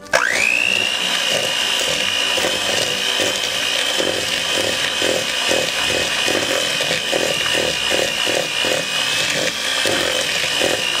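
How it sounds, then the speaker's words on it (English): An electric mixer creams butter with brown and granulated sugar for peanut butter blossom cookie dough, a steady, continuous motor whine with a rhythmic rattle from the beaters, close and loud throughout. "Now I'm going to cream this together until it's light and fluffy."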